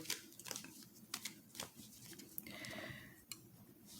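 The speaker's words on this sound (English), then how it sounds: "let's just do a quick shuffle here" A very small, slippery deck of cards gets a quick hand shuffle, giving soft scattered riffles, taps and papery flicks, faint and close, with no talk.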